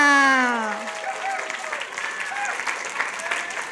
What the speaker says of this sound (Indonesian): Tepuk tangan dulu untuk teman-teman semuanya